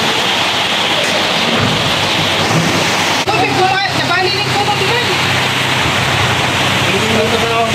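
Heavy rain and gusting wind during a typhoon, a dense, loud, steady roar of downpour close by that lasts throughout, with people talking over it.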